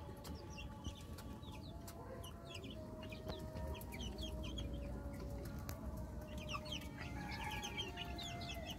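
Backyard chickens in a small flock cluck and chatter in short, repeated calls over a steady low background hum, fairly quiet and close by.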